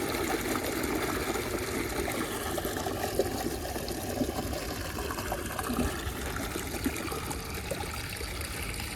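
Water flows steadily from a solar-powered motor pump irrigating a wheat field, a continuous moderate trickling and splashing rush with no talking.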